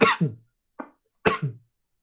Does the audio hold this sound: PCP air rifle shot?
no